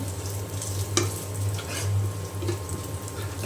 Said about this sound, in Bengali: আমি এইভাবে একটু চামচ দিয়ে ডলা দিয়ে দেব